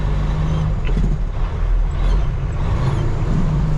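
A 13-speed truck downshifts through its low gears in city traffic, its deep, loud engine rumble droning steadily with slight dips and shifts in tone as each gear changes.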